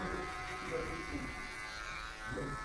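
An electric hair clipper set to zero buzzes steadily and close up while cutting a mid fade haircut, a continuous even drone throughout.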